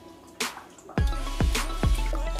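Whole milk pours into a pot on the stove, a few close splashing glugs and a steady liquid stream that continues with no voices.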